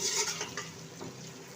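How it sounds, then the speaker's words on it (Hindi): Okra sizzles and fries in a pan over the flame, a bright crackle with light stirring and the clink of a utensil against the pan. "आंच पे हम भिंडी को फ्राई करेंगे"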